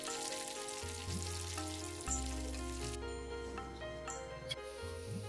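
Cashews, raisins and chopped vegetables frying in a pan, a steady close sizzle with faint stirring clinks throughout and no talk.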